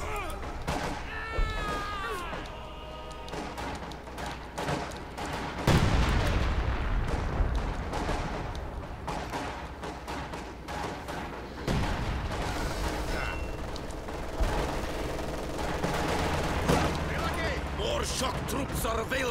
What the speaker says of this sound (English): This HMG is tearing us apart!